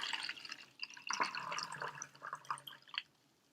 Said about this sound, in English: I'm going to take the cup and I'm going to add some water.